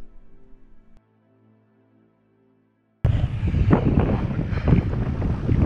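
Strong gale-force wind buffets the microphone on an exposed hilltop, a loud broadband roar that bursts in suddenly after a near-silent stretch and keeps gusting unevenly to the end.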